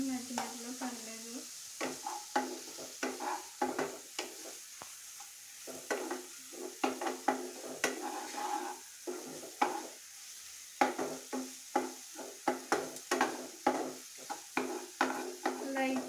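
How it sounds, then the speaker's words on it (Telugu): Food stirred and fried in a little oil until light brown gives a steady soft sizzle, broken by repeated scraping and clinking strokes of a spoon against the pan throughout. "లైట్ బ్రౌన్ షేడ్ వచ్చి వరకు వేపుతానే ఉండండి."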